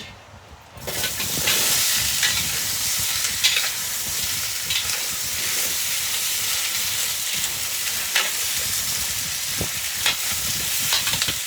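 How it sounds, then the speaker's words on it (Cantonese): Potatoes stir-fry in hot oil in a wok, a loud sustained sizzle and hiss that starts abruptly, with scraping stirs and occasional clacks of the utensil, close and without talk. "炒埋啲薯仔，走一走油先。"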